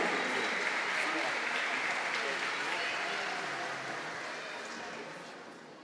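A crowd at a formal ceremonial session claps loudly and steadily, the applause gradually fading toward the end.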